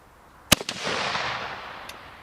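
A single loud sharp crack from an SKS military surplus rifle fired outdoors in cold weather, followed by a long rolling echo that fades out; no talk.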